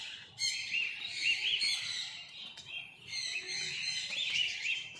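Birds chirp and trill steadily in a walk-in aviary at Indore zoo, a dense, lively chorus of overlapping calls close by with brief dips, no talking.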